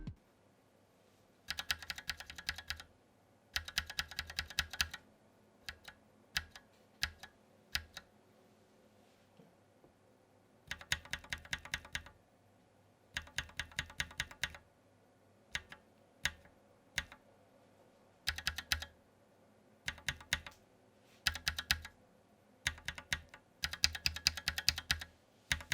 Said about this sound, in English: a sound test of the lubed and unlubed Durock POMs